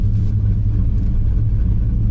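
An LT1 Camaro idles while warming up, a steady low rumble close by, with no voices.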